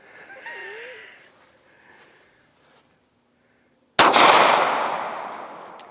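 .380 ACP pistol fired at a target: one sharp, loud shot cracks out after a few seconds of faint background noise and trails off in a long echo.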